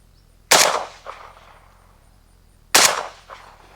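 Two suppressed rifle shots through a JMac Customs Banka suppressor fitted with a vented 36 cap, each a sharp loud crack with a short trailing decay and a faint echo, spaced about two seconds apart.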